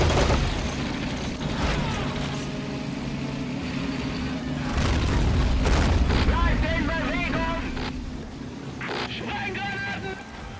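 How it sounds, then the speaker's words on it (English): Rocket artillery barrage in the Men of War 2 video game: a rumbling, continuous run of launches and booms with mechanical rattling, fairly loud and sustained, with a voice talking over parts of it. "Going all out rocket artillery."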